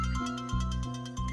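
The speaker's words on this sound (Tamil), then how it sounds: "டேய், ஜெயா ஃபோன் பண்றடா." An incoming call rings on a phone as a pulsing electronic ringtone, repeating in quick even bursts over a sustained musical tone, loud and close with no talk.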